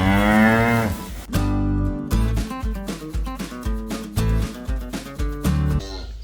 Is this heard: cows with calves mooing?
yes